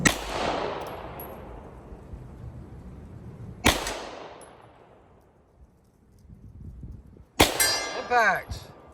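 Pistol shots ringing off steel targets during a practical shooting stage: three sharp cracks spaced a few seconds apart, each followed by a long fading metallic ring, the last with a bright warbling clang, close and loud.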